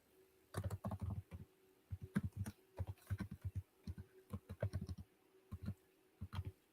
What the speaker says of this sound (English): I can hear Hennessy typing away